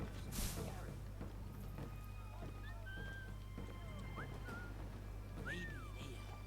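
A character whistles in the Assassin's Creed III video game, heard as short, wavering tonal notes over steady game ambience with a constant low hum, while someone talks throughout.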